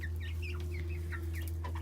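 Buff Orpington chickens clucking softly in short chirpy bursts on a windy day, faint over a steady low hum.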